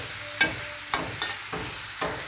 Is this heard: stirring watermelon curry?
yes